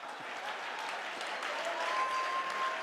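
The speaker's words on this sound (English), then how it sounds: "Come on, clap your hand." An audience claps steadily for a few seconds, a dense, even patter of many hands with no voices over it.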